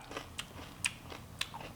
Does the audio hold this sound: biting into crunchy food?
yes